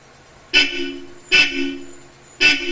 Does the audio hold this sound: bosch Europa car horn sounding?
yes